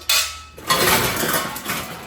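Brand-new metal pots and cooking vessels, including rice-cooking pots and an uruli, are handled close up, giving a sharp metallic clank followed by a run of lighter rattles and scrapes.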